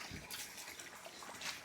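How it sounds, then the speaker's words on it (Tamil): Fresh coriander is rinsed under a steady stream of running water, a continuous close hiss and splash with no talk over it. "தண்ணி ஓடிட்டு இருக்குது பாருங்க"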